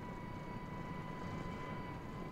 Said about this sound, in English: There's another chopper coming somewhere